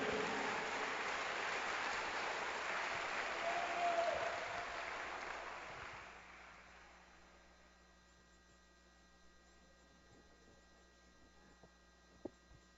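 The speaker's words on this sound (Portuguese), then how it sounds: "Aplauda ao Senhor." A church congregation claps during a worship service, a sustained round of applause that fades away after about six seconds, leaving low electrical hum and a quiet room.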